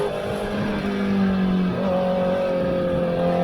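A race car engine drones loudly and steadily at close range, its pitch stepping as it downshifts into fifth gear mid-race, with no voices over it.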